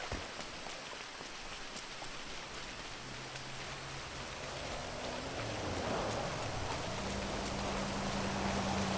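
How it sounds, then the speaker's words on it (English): Steady rain falls in a video game, a constant soft hiss of drops on surfaces that swells slightly toward the end, with a low hum underneath and no talking. "Of course, now it starts to rain."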